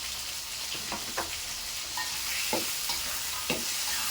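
Shallots, garlic, chili, tomato and scallions stir-fried in a pan, with a steady sizzle broken by a string of sharp scraping strokes from the spatula and no talking.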